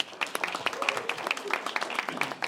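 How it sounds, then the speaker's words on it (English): Applause for the hosts at a home launch party for a Saratoga city council campaign, a steady patter of many hands clapping at moderate distance, with a voice speaking over it. "So a big round of applause for Rama and Minnie"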